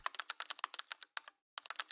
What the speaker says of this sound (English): When I type on my keyboard, those key presses are fed to the emulator